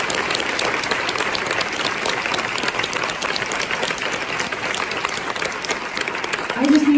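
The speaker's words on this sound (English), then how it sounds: "let's give her a round of applause." An audience at a quilt retreat gives a round of applause, dense continuous clapping that holds steady and loud for several seconds, with a voice breaking in near the end.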